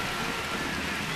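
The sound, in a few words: heavy rain falling during a baseball game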